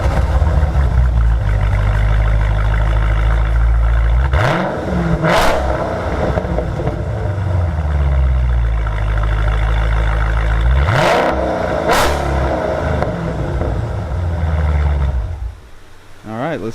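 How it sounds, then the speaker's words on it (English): A 2019 Dodge Challenger on its stock exhaust rumbles loudly at close range, with two sharp revs that climb and fall back to a deep idle before it quiets near the end. "fire this thing up so that way you can hear a couple of revs with the stock system"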